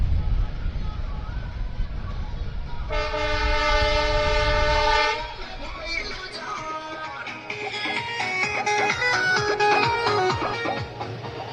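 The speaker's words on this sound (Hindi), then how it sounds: "ट्रेन आ रही है।" An arriving passenger train on the Karimganj–Guwahati route sounds a loud, sustained horn, then rolls in with a rhythmic clatter of wheels on rails.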